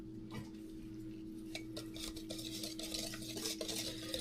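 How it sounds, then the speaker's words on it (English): A utensil stirring banana pudding mix with two cups of milk in a bowl, soft continuous swishing and light clinking against the dish, fairly quiet and close, with a low hum underneath. "take our pudding mixture and then 2 cups of milk, and we're going to go ahead and mix this up"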